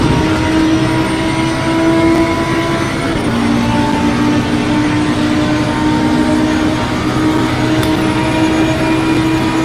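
Race car engine droning at low revs during a multiclass race at Monza in a racing video game, a loud, steady, continuous hum with no talk over it.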